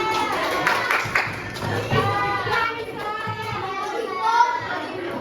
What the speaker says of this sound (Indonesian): Oke, tepuk tangan buat daerahnya.